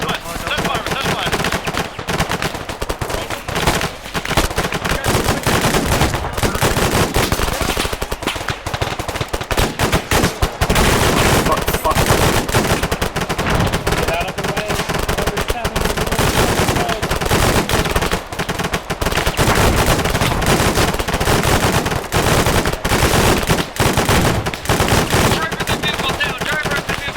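Sustained, dense machine gun bursts and overlapping gunshots rattle nonstop through a video game firefight, loud and close throughout the whole stretch.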